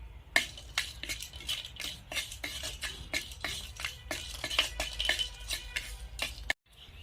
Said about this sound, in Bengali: এখন আমি বড় এলাচের অর্ধেক, এক টুকরো দারুচিনি, 3টে ছোট এলাচ, 6টা-7টার মতো লবঙ্গ একসাথে ভেজে নেব